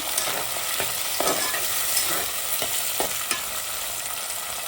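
Nellore-style fish curry being stirred in a hot pan, a loud, continuous sizzle broken by regular scraping strokes of the spoon, close up with no voices.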